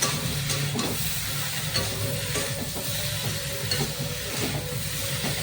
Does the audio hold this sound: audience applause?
no